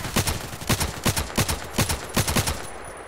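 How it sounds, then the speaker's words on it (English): Gunfire in the video game Contract Wars, rapid bursts of automatic shots in a steady rhythm, about a dozen loud cracks over a few seconds before fading to a low background. "just now he's shooting and shooting and shooting, doesn't get me"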